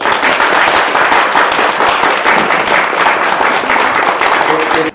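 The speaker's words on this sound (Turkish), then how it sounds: "Hadi alkış" Wedding guests applauding at a civil marriage ceremony, a loud, dense wall of clapping from a full room that runs continuously and cuts off sharply at the end.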